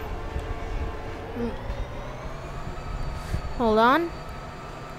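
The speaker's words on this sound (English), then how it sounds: "Let's just drive the locomotive." Locomotive driven in the BeamNG driving game, a low rumbling engine hum under a quiet voice, with a rising and falling horn-like tone sounding briefly near the end.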